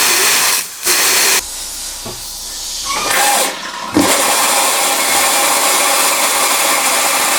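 Pressurized air forced through a camper van's water lines by a hose pushed into the blow-off tube, a loud rushing hiss with a few brief breaks before settling into a steady, continuous blast.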